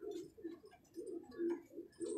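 A pigeon perched in a bush gives a run of soft, low cooing calls, fairly near and steady, with faint higher chirps from other birds in the background.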